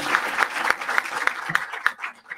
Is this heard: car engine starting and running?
no